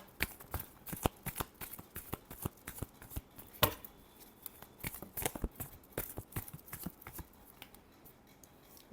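Tarot cards are shuffled close up in quick papery riffles and slaps, irregular bursts of crisp flicks and taps with brief pauses, quiet and without speech.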